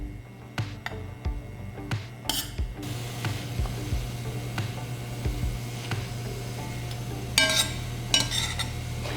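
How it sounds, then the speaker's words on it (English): Greens and vegetables sizzle steadily as they sauté in a pan while a utensil scrapes and stirs, with a few metallic clinks and taps, no voices. "I'm gonna let it continue to sizzle, and I'm gonna stir it around and saute it"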